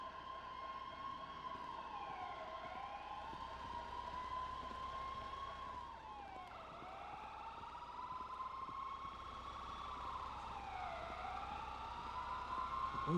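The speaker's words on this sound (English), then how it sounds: "Sounds of sirens everywhere." Emergency vehicle sirens wailing in a GTA roleplay game, several rising and falling cycles from a police-style siren that sweep repeatedly over a low steady background, moderately loud and without talk.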